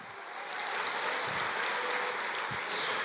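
A church congregation applauds during a worship service, producing a steady, dense wash of clapping with no voices over it.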